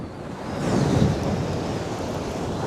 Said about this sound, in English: That wind's getting a little bit naughty.